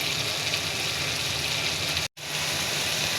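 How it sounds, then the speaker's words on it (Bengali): Blended ginger, garlic and onion spice paste frying in a pan with chicken, giving a steady, close hiss of sizzling broken by a brief gap near the end. "মশলাটা ভেজে নিব।"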